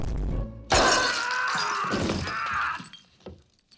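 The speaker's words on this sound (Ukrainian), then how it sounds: "хаває своїми стопами порцію ялинкових іграшок" Glass Christmas ornaments crushed underfoot in a Home Alone film scene: a sudden loud shattering crash, followed by a couple of seconds of crunching, tinkling glass that fades into a few faint crackles.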